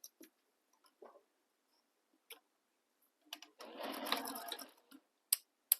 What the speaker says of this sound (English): And you want to sew them using the seam allowance given in the pattern.